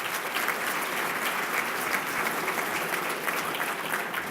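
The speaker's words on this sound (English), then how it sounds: "So let's give a little round of applause to Sybil and Adam Strum, please." Steady, dense applause from an audience at an awards dinner, a continuous wash of many hands clapping at even loudness for the whole stretch, with no voices rising above it.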